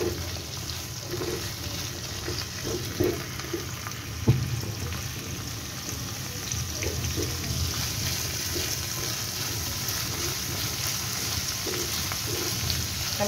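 Chopped onion and garlic fry steadily in a pan, a continuous soft sizzle with a few faint clinks and scrapes, no talking.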